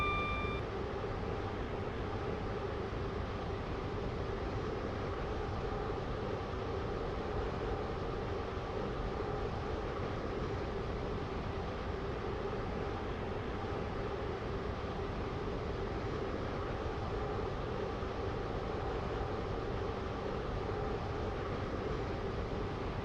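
Train arriving at a station in the Stepford County Railway video game, a constant loud engine drone with steady tonal hums and no break, heard alone.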